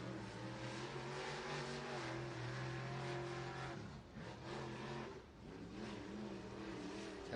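A pro stock drag racing car engine revs at the track in a loud, sustained roar that holds, dips briefly and climbs again, seeming unable to reach full revs.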